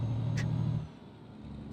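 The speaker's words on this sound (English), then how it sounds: "Where did that car come from?" A car in the Euro Truck Simulator driving game rumbles past close by, a loud low engine drone that fades after a second, with a brief hiss and quieter road noise continuing.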